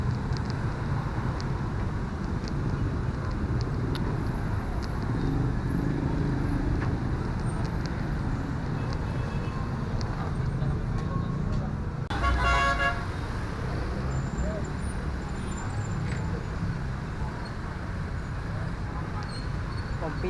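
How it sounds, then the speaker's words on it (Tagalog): Rush hour traffic on Commonwealth Avenue in Quezon City makes a constant heavy rumble of engines, with one short car horn toot midway and a voice speaking now and then. "Pagka ganitong oras, rush hour. Sobrang traffic na oh."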